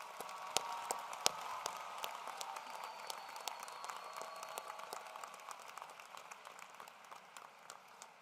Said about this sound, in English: Please give a round of applause for Carl and let him hear the impact he had on you.